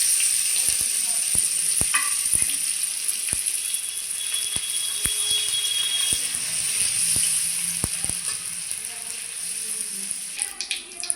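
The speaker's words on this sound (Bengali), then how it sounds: "তো দিয়ে দিচ্ছি, আদাও ভেজে নেব।" Grated ginger sizzles in hot oil in a pan while khichuri is cooked for a festival offering, a loud continuous frying hiss broken by sharp clicks and scrapes of a stirring spoon.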